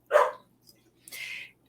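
A neighbor's small dog lets out two sharp barks about a second apart, the first fuller and lower, the second thinner and higher, fairly close by and with no talk over them.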